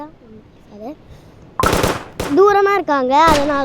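Rapid gunfire bursts in an agent hunt shooting video game, loud close shots mixed with in-game tones and someone talking over the action.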